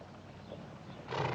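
A horse whinnies, a drawn-out neigh rising toward the end, with faint hoof movement underneath, moderately close.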